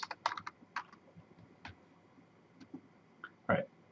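A computer keyboard is typed on in short, irregular bursts of quiet key clicks and taps while entering commands in a terminal, fairly close and alone with no talk.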